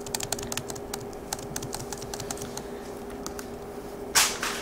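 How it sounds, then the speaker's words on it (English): Fast typing on a computer keyboard, a dense run of quick, crisp key clicks at close range with no talking, ending in a louder clattering burst. "Trying to type fast."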